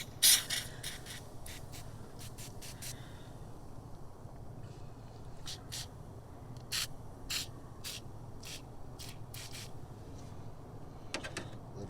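Battery cleaner with an acid indicator sprayed onto a car battery terminal, heard as a series of short, sharp hissing bursts at close range over a low background hum.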